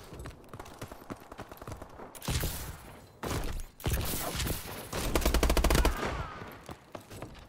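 Rapid bursts of gunfire in a first-person shooter match, dense repeated shots in clusters with heavier booming blasts midway, loud and close, over busy game noise.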